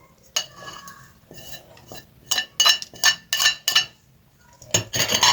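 Chicken pakora ingredients, chopped vegetables and green garlic, being mixed in a metal bowl, with close, loud clinks and scrapes of utensil against the dish coming in irregular bursts, separated by quieter pauses.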